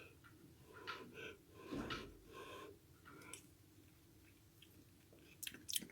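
Someone quietly tastes a sweet potato and chorizo soup, giving soft close-up chewing and wet mouth sounds with a few brief clicks and small rustles, low in level throughout.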